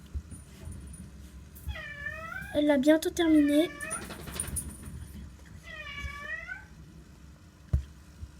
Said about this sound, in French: Désolée pour mon chat qui miaule derrière.